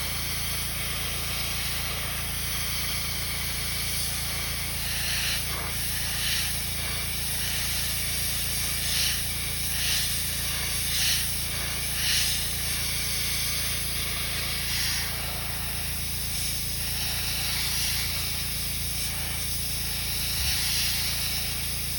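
A continuous soft hiss of an airbrush spraying paint onto a custom crankbait fishing lure runs throughout, with faint fluctuations and a few brief bursts of extra air.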